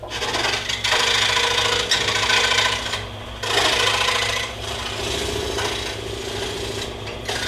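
A saw cuts around a pattern in a wooden board, giving a continuous close rasping buzz with a few brief dips as the board is fed across the table.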